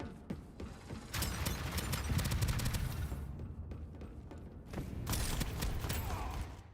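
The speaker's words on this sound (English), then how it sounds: "The minigun, SMG and LMG are all particularly fun to use because you can really just hose people down." Sustained full-auto fire from a minigun, SMG and LMG in the shooter game Starsiege Deadzone, two long rattling bursts of rapid shots separated by a short lull, fairly close with mechanical clatter.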